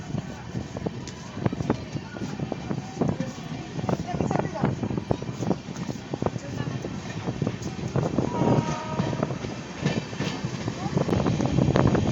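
The Howrah–Bareilly 12353 weekly superfast express rumbles along at speed, with constant rattling and clattering of the coaches heard from inside, steady and fairly loud throughout.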